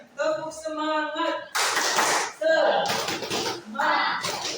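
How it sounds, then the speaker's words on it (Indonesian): A class performs the rhythmic tepuk semangat spirit clap, with bursts of patterned hand clapping alternating with chanted voices in short, energetic phrases. "1, 2, 3, tepuk semangat."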